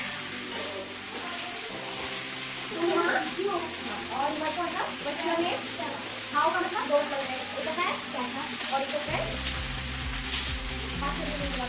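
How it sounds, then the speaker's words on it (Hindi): Vegetables sizzle as they are tempered and fried in hot oil in a kadhai, a crackling spatter with stirring scrapes close by, while someone talks over it. "तो अब यहाँ पे फटाफट सब्ज़ी छौंक लेते हैं।"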